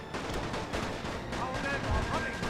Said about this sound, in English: This machine gun corps is actually firing back at us